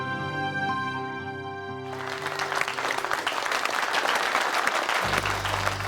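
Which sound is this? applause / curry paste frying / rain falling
applause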